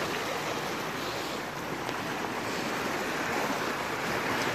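Steady sea surf washes and rushes on a coast where a bull swims out into the water, a continuous broad roar with wind buffeting the microphone and no clear breaks.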